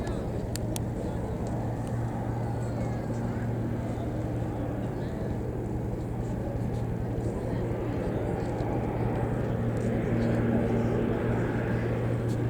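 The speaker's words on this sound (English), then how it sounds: "It's coming in to land on Duxford's grass." A Short Skyvan turboprop comes in to land on grass at the Duxford air show, its steady engine drone loud and continuous throughout, with a low hum and broad roar and no clear talk over it.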